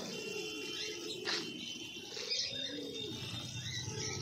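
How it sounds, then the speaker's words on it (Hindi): Pigeons coo in soft, low rolling phrases, with a few faint chirps and wing flutters over a steady background hum. "हमारे कबूतर"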